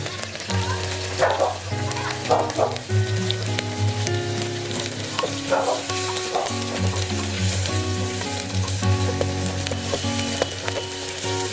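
Whole garam masala fries in hot oil for dhaba-style Bengali mutton curry, a loud, constant sizzle with stirring scrapes, steady and close throughout, with a low hum underneath.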